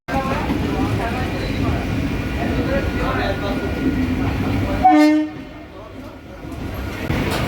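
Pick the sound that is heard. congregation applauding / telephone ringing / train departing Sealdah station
train departing Sealdah station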